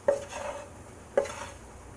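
Sausage gravy stirred in a pan for Southern biscuits and gravy, two distinct spoon knocks against the pan about a second apart over a faint background hum.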